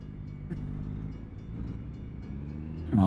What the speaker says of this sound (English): Oh, we've got a train coming.